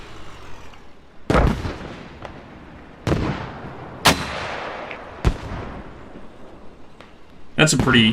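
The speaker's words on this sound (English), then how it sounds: "cheeky mortar spot right there. They gotta pretty much get a direct hit on your position to get the kill." Mortar rounds in a competitive online shooter match hit as a handful of sharp, booming blasts spaced a second or two apart, loud over continuous commentary.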